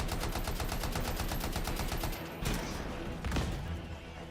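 Automatic weapon fire in the video game Anthem rattling in fast, even bursts against a lieutenant's shield, then giving way to a couple of heavier impacts or blasts near the end.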